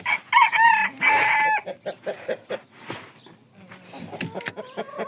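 A bantam rooster crows loudly and close, followed by a run of chickens clucking in short, rhythmic bursts, with faint buzzing in the background.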